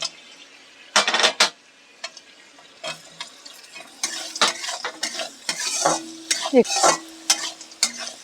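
Nuts fried with softened potatoes in a pan for a flattened-rice pulao, with a spatula scraping and clinking against the pan over a light sizzle, close and intermittent with no talking.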